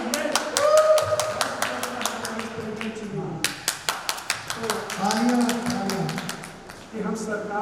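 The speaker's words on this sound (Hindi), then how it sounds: "सुनंदा मैडम एक बार जोरदार ताली हो जाए भाई" An audience at an Ayodhya PFVC meeting breaks into a burst of rhythmic applause, loud and close, with someone speaking before and over the clapping.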